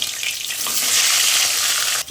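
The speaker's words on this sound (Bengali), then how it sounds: "মাছের মাথাগুলো দিয়ে ভেজে নেব।" Catla fish heads fry in hot oil in a pan, making a loud, continuous, close-up sizzle that holds steady throughout, with no speech.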